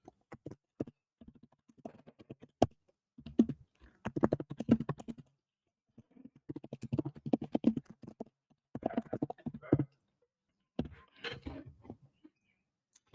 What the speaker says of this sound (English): You can just type some text over here